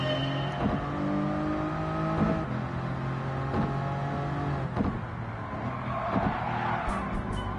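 A Toyota Crown Athlete engine in Gran Turismo 7 whining and shifting pitch steadily, with repeated revs and gear changes and faint tire squeals, no voices.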